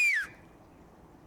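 A voice imitates a loud, high ringing whistle heard in the ears, one falling whistled tone of about a quarter second, then near silence with faint room noise.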